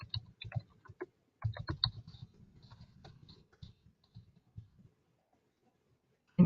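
A computer keyboard is typed on nearby, first in quick clusters of keystrokes, then in sparser clicks, followed by a pause before a final louder knock.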